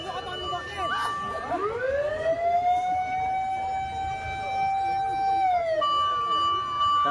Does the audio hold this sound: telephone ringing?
no